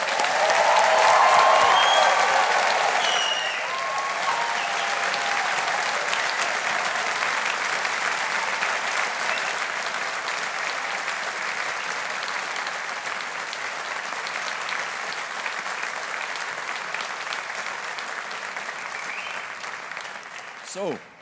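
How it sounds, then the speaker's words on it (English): Graduation ceremony audience at Strathclyde applauds the class of 2023, a loud, dense, sustained round of clapping from a large hall that swells at first and then holds steady for about twenty seconds. "let's give the class of 2023 a big round of applause."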